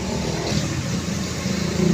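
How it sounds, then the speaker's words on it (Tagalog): A car engine running nearby, a steady mid-pitched motor hum with slight revving over two seconds. "Ayan ang sasakyan namin."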